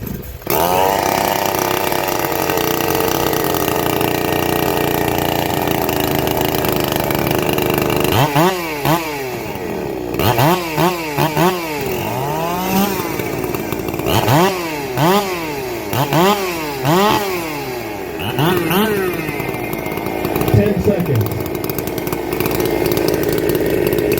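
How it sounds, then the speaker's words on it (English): Several chainsaws warming up at a saw racing contest, engines droning and repeatedly revving up and down in overlapping bursts, loud and sustained throughout. "Gentlemen, 30 seconds to warm up your saw."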